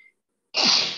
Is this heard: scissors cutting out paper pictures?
no